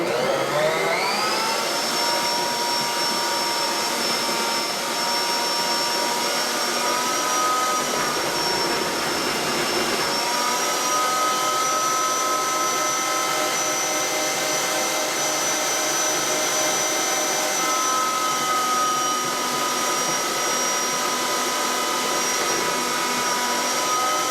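A Bosch Universal Plus slicer shredder runs steadily for about 24 seconds as cabbage is pushed down into it, giving a loud, continuous motor whine with a slight shift in pitch partway through as the load changes.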